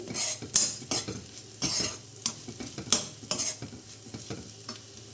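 Ground coconut being stirred into ridge gourd chutney in a pan on the stove, a spatula scraping in quick repeated strokes with a faint sizzle underneath.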